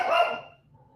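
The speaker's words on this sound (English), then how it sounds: "I don't know what she's barking at." A dog gives one loud, close bark on a farm where goats are kept, then the sound drops to quiet.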